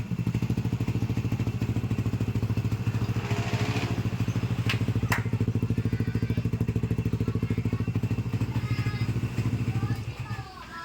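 A Yamaha NMAX version 1 scooter with a 210cc engine, set up for endurance racing, runs loud and steady close by, with a strong low drone throughout that fades only near the end.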